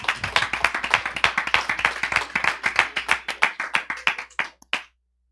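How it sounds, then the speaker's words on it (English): A small audience at an investor class claps for a guest, with distinct individual hand claps in an uneven rhythm that gradually thins out and stops near the end, no talk over it. "Round of applause for Phil Falcone."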